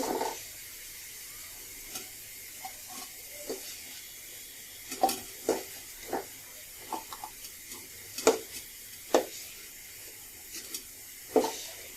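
Carrots and potatoes sizzle quietly in hot oil, broken by scattered scrapes and light clinks of a utensil against the pan.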